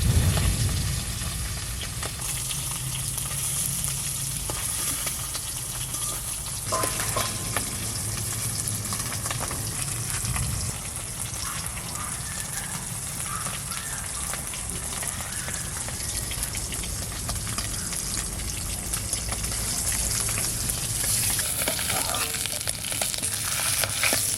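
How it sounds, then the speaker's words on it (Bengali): Hilsa fish fries lightly in a pan of hot oil, giving a loud, continuous close-up sizzle and crackle that carries unbroken throughout. "বেশি ভাজি নাই হালকা ভেজে নিলাম"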